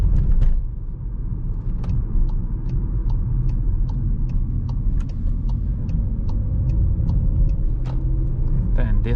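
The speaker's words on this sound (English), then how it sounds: "This was the sound of the indicator." A steady, regular ticking of a 2021 Seat Leon FR 1.5 eTSI turn signal over the low rumble of the engine, clicking about twice per second.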